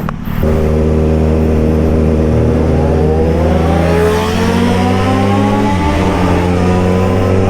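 A Triumph Street Rebel motorcycle engine drones loud and steady, rising in pitch as it revs up, then briefly dipping and climbing again, close and continuous.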